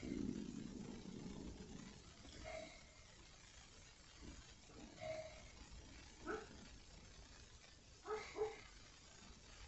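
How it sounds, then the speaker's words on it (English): A dog dreaming in its sleep gives faint, brief whimpers, a few soft whines spaced out over quiet indoor background after a low rumble at the start, heard alone with no talk. "Oh, hold on, my dog's dreaming."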